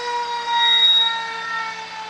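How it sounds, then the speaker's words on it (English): Fire truck siren at a parade wails loud and sustained with a steady tone that swells and eases slightly, heard close with no talking. "we try to talk above the sirens every year"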